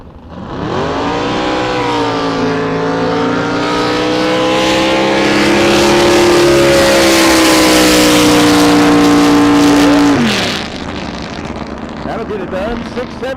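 A Pro Comp Flat drag boat with a 500-cubic-inch engine roars through a pass at a Southern Drag Boat Association race in Bryan, Texas. The engine note climbs steadily for about ten seconds, loud and close, then drops off sharply.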